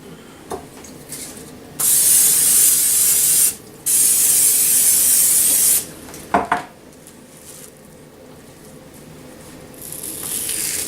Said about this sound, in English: we're going to go ahead and spray some cooking spray on there